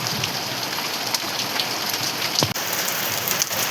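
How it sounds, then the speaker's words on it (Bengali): Heavy rain and hail drum on an asbestos roof, a dense loud constant patter with a few sharper knocks, and no voices. "এখনো টক টক করে আওয়াজ হচ্ছে অ্যালবেস্টার থেকে"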